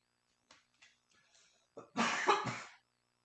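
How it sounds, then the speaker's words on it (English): A few faint clicks and breaths, then a harsh, close cough burst with a second hacking follow-up before silence. "Again, I apologize for my cough."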